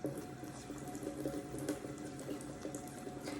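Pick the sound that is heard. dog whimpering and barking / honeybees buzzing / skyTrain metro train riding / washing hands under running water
washing hands under running water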